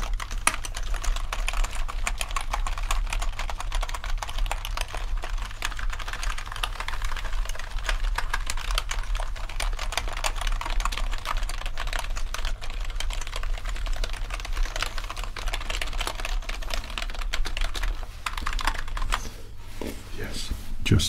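Steady, dense clatter of typing on a computer keyboard, close and continuous for the whole stretch, with no voice over it.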